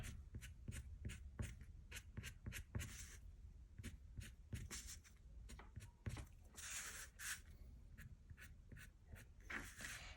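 A darker red pencil colours over paper while shading an ANZAC Day poppy, giving soft, rapid scratchy strokes in a steady rhythm, close and faint, with no voice.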